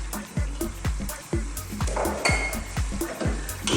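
Sliced onions sizzle in a pan as they are stirred into a lamb tagine, with steady frying hiss, soft scraping and clinks from the spoon recurring in a loose rhythm, close and fairly loud.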